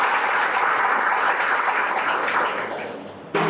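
Steady, dense applause from an audience, loud and even for about three seconds before thinning out and briefly dropping away, then resuming.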